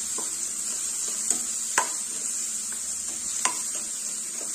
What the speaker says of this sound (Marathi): तेलामध्ये छान असं परतून घ्यायचं, जेणेकरून याला रंग खूप छान येतो